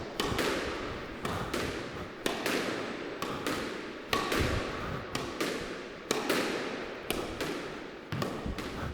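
Squash ball struck straight down the wall in a figure-of-8 drill on a court, sharp hollow cracks and thuds repeating about every second with bright echoing reverberation, no talking.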